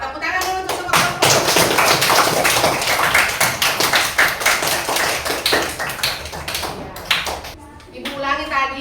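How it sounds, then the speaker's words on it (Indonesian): Students in a classroom clap for the student groups during an Islamic studies lesson, giving a burst of close, uneven handclaps with a few louder slaps, while children's voices and chatter come through on top. "Tepuk tangan dulu untuk semua kelompok."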